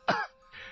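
A single harsh cough or throat-clearing burst, close and fairly loud, followed by a quieter rasping breath.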